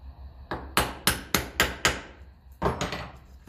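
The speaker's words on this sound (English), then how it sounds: "Have a little hammer there just to tap that down." A small hammer taps a part down on the engine of a 1954 Ferguson 20 TEF diesel tractor: a run of about six sharp metallic knocks at an even pace, a short pause, then a few quicker taps, close and clear.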